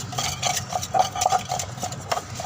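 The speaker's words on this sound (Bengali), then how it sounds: "মাছটাকে ভালোভাবে ধোয়া হচ্ছে।" Hornfish being washed by hand in a bowl of water, soft irregular splashes, sloshing and light clinks against the bowl, close and fairly quiet.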